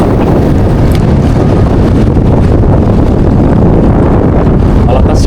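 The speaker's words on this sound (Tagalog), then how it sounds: "Malakas yung hangin." Strong wind buffets the microphone on a fishing boat out on the water, a loud, continuous roar that fills the whole clip with no letup.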